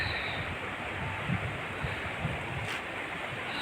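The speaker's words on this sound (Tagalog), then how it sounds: "Masyadong malakas ang tubig ng Silway." The strong current of the Silway River in General Santos rushes steadily, a broad continuous wash of flowing water with some wind buffeting the microphone and no voices.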